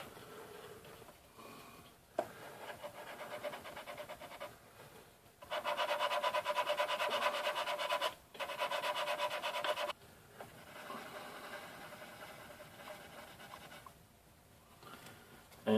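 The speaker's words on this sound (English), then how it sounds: "And then we'll just sand that down, get nice and even across there." Sanding the plastic of a 1:48 Monogram F-4C Phantom model kit: dry, raspy rubbing strokes in bursts separated by brief pauses, close and fairly quiet, with no talk.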